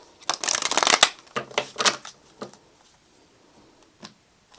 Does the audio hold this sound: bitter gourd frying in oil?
no